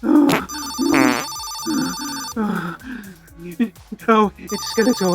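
A phone ringtone plays in loud bursts while someone talks over and between them.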